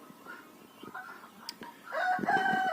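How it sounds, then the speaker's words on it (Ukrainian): Laying hens cluck and call softly around a farmyard before a rooster breaks into a loud, close crow near the end, alone without talk. "А курочок я випустила на двір, і вони в мене ходять."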